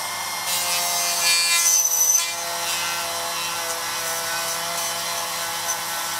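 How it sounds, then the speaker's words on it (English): Steady, close rubbing of sandpaper against a small part during radio re-assembly, a continuous scratchy hiss with slight strokes and no talking. "I'm switching to some sandpaper now because I found that the file was a little bit too coarse"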